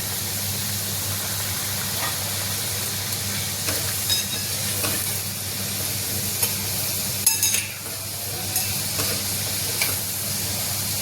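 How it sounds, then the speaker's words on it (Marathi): Wheat-flour modak deep-fry in oil over a low flame, a steady, even sizzling hiss that runs on with a few faint clinks and bubbling bursts. "याला तळून घेऊ"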